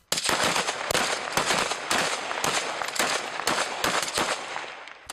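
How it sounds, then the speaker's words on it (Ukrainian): Gunshots fired into the sky at a farewell at checkpoints: a dense, crackling volley of rapid overlapping shots, loud and continuous for about five seconds. "Так з ним прощалися на блокпостах пострілами у небо."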